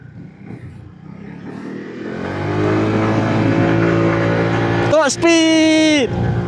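A CFMOTO motorcycle accelerates on a test ride, heard from the rider's position. The engine note climbs steadily, then a brief dip and a fresh high-pitched surge follow near the end, with wind rush underneath.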